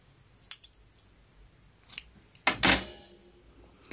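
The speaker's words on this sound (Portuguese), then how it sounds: "Vou já cortar um pedaço do fio aqui" A single quiet snip of scissors cutting crochet yarn while a coaster is being finished, preceded by a few faint clicks and handling sounds.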